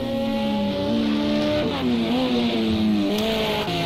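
Race cars lapping Monza in Project CARS 2, a continuous high engine whine that rises and falls with gear changes, loud and steady, with no voice present.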